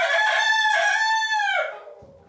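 A rooster in a chicken coop gives one loud, close crow that rises, holds, then trails off, followed by a faint rustle.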